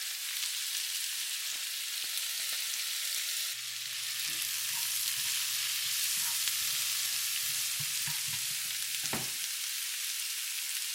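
Pork chops frying in a pan with chopped onion, garlic and lemongrass, a steady bright sizzle running throughout with a few soft stirring knocks and a low hum partway through.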